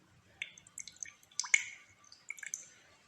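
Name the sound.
squeezing water out of a cut plant for a gurah remedy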